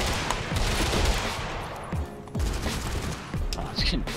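Rapid bursts of automatic gunfire in a shooter video game, dense crackling volleys with brief gaps, fairly close and loud, with players talking over it.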